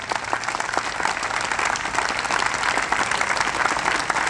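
Steady, dense audience applause at an operetta premiere at Malta Festival Poznań, a continuous even patter of many hands throughout with no voices over it.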